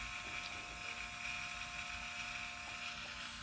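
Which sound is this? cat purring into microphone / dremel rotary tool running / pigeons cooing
dremel rotary tool running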